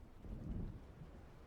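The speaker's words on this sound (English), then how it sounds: "It seems there's a storm coming" Rumbling thunder with steady rain from an approaching storm in the game Alan Wake Remastered, near the lakeside where Diver's Isle once stood; a continuous low roll swelling and fading, loud and unbroken, with no voices.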